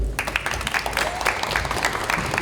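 Applause from attendees at a political party's on-site leadership meeting on the semiconductor industry, a brief, full burst of many hands clapping steadily throughout.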